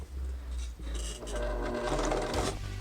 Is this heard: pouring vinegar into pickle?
no